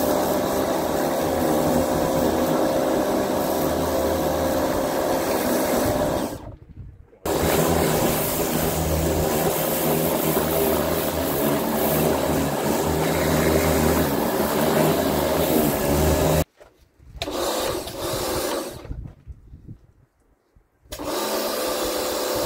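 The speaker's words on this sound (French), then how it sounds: "Et là on nettoie de nouveau les jantes." Continuous brushing and scrubbing on car wheel rims during a wash with an ALDI car care kit, a loud, steady broadband rasp that runs for long stretches and breaks off briefly twice.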